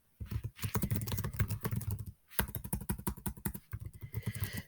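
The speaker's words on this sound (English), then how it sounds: "but watch as I type in the question" Fingers type on a computer keyboard in two quick bursts of dense, close key clicks, with a short pause between them and no talking.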